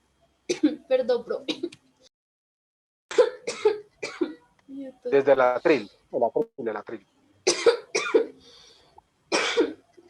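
During a radio announcing class, a person coughs in short, sharp bursts scattered across about ten seconds, with brief spoken Spanish apologies mixed between the coughs.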